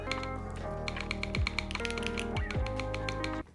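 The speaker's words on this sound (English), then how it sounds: "Definitely leans more into like the clacky nature of the keyboard." Rapid, clacky keystrokes on a Chimera65 R2 mechanical keyboard with PBT keycaps, a dense run of sharp taps lasting about three seconds, with a sustained tone running underneath.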